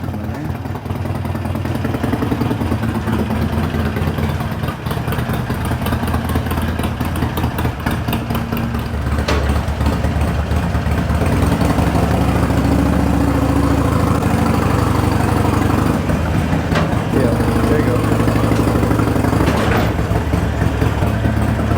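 A Harley-Davidson Sportster motorcycle idles close by in a steady, continuous low rumble that holds at an even loudness throughout, with no pauses.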